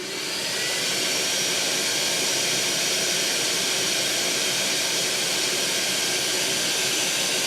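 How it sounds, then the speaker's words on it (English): A fume extractor fan powered through a Tapo P115 smart plug spins up and runs at high speed, giving a loud, steady broadband whoosh of rushing air that holds constant for several seconds with no talking. "let's crank the fume extractor up"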